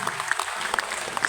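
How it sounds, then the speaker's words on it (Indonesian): Audience at a Ramadan fast-breaking gathering of a university community in Padang claps in a short burst of applause, with sharp individual claps standing out from the crowd. "Tepuk tangan untuk kita semuanya."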